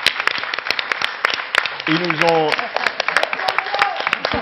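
Audience applause at a French round-table event, a burst of clapping from a gathered crowd heard under and around someone talking, with a brief tonal voice passage partway through.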